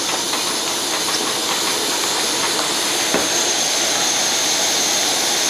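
An MSR Whisperlite International liquid-fuel camp stove burning wide open after the fuel bottle has been pumped, giving a loud, steady roaring hiss that stays constant without a break.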